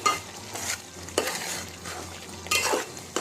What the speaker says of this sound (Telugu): మొత్తం కూర అంతా కర్రీ అంతా ఒకసారి మొత్తం కారం అంతా కలిసేటట్టు కూర అంతా